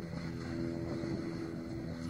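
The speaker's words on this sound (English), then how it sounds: "I hear an airplane going by." An airplane drones by overhead as a steady, low, even engine hum that holds without breaks, faint and distant beneath a soft background hiss.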